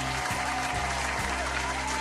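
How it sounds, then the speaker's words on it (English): A studio audience claps steadily and loudly, a continuous dense wash of applause with no talk over it, while a low rhythmic beat thumps underneath. "Clap for him."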